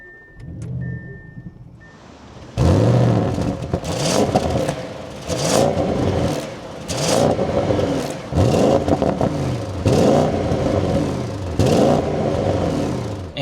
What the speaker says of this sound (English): let's start this up and take a listen to that V8